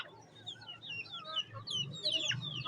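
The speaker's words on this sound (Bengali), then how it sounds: "মুরগি" Chickens clucking close by in a farmyard, with a steady run of short, overlapping clucks and higher peeping calls that grow busier toward the end, with no talk.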